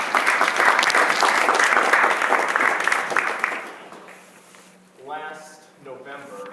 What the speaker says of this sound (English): Let's go ahead and give those awesome round of applause.